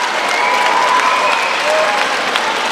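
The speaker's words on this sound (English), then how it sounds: "As you can hear the crowd going absolutely wild for Jan there." Loud crowd at a live MMA fight, cheering and applauding steadily after an armbar submission, a dense roar of clapping and shouts throughout.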